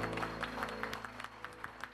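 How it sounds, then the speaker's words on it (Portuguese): Wedding guests at a ceremony clap for the couple's kiss, a brief, fairly soft patter of scattered hands over a held musical tone, the claps picking out an uneven rhythm. "nós vamos saudá-lo com uma calorosa salva de palmas"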